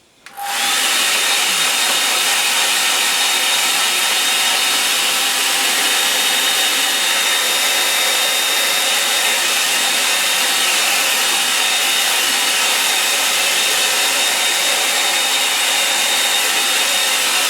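A hair dryer blowing on a watercolour painting of Derwent Water in the Lake District, switched on at the start and running as a steady, loud, broadband whoosh throughout, with no talking.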